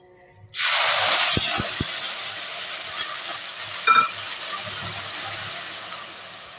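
Cumin seeds and turmeric hitting hot oil in a wok, a loud sudden sizzle that holds steady and slowly eases, with a few faint utensil taps along the way.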